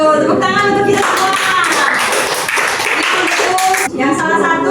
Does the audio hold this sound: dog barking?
no